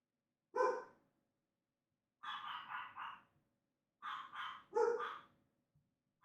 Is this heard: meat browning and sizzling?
no